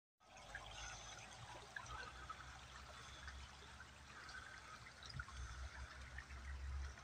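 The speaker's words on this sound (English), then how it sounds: "you can hear the water running. It's not completely froze" Creek water running steadily outdoors, the creek partly frozen, a continuous broadband trickling and gurgling rush that stays fairly even throughout, with no talking.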